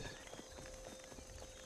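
Hooves of zebras or horses clip-clop faintly in Ancestors: The Humankind Odyssey, a soft, irregular patter of steps under a steady game ambience.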